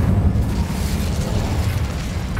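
Fire spell blasting in Hogwarts Legacy, a dense, loud burst of roaring flame and low rumbling that fills the whole moment without pause, with no talking over it.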